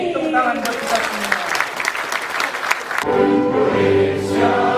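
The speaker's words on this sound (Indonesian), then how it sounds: "Tepuk tangan buat kita semua." A corporate audience at a QCC 2025 event for PT KMI Wire and Cable applauds loudly and densely for about three seconds, then the clapping gives way to a sung national anthem.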